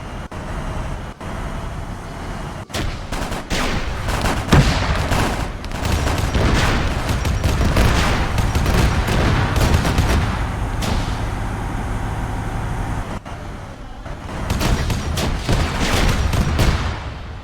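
A tank in an Arma 3 Warhammer 40k-style battle comes under heavy gunfire, with dense, continuous rattling impacts and booms layered over engine rumble for the whole stretch, with brief dips in between.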